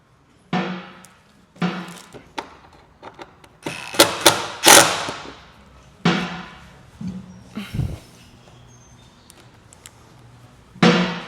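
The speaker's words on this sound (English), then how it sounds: "Let's put one bolt in on this side." Bolt being fitted while installing a new car headlight: a series of sharp metallic clicks and ratcheting taps in separate bursts, close and fairly loud with quiet gaps between.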